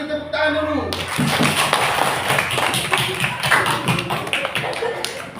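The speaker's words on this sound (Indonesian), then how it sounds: "Kasih tepuk tangan dulu" Classroom students break into applause after a group presentation, a dense burst of many close hands clapping that starts abruptly and carries on steadily to the end.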